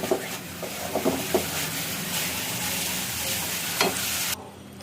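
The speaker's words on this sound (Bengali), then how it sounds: "শোল মাছের জন্য মশলা কষাচ্ছি" Spices fry in a kadai for a snakehead fish curry, with a close, dense sizzle broken by several stirring scrapes before the sound cuts off abruptly.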